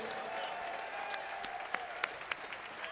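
Quiet, steady applause from a crowd at a live boxing night for two boxers in the ring, a soft wash of clapping with a few sharper individual claps popping out near the end.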